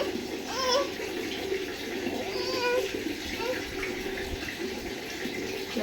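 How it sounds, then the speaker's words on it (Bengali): Clothes are washed by hand under running water on a rooftop, with a steady close wash of pouring and splashing water while someone talks over it throughout. "চলো কাপড়টি আমি আগে ধুয়ে নিই"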